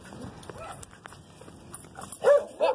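A dog barks twice in quick succession near the end, loud and close, after quieter background rumble, while someone drives along a road.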